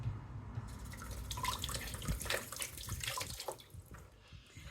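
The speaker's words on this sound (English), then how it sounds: "I'm just gonna give this a quick rinse." Water runs from a tap as a plantain stem is rinsed, a close, moderately quiet splashing stream with uneven bursts as it strikes the stem, then eases off near the end.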